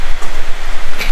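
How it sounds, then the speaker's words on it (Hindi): Heavy rain pours down at night by a house under construction in Ziro Valley, a loud, dense and steady roar of falling water heard up close with no voices. "यहाँ पे आ गया हूँ मैं क्योंकि बारिश बड़ी तेज शुरू हो गया।"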